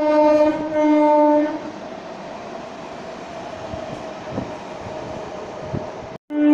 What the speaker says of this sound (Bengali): আজ আমরা জার্নি করতে চলেছি ট্রেন নাম্বার 37111 হাওড়া বেলুড়মঠ লোকালে।